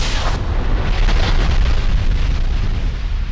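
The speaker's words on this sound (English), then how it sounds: "It turns your primal armor shield into an explosion" Primal armor explosion attack from the video game Armored Core for Answer, a loud deep boom with a sharp initial burst followed by a sustained rumbling roar that lingers at full strength.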